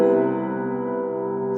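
A sustained piano major seventh chord rings out alone, full and resonant, slowly fading.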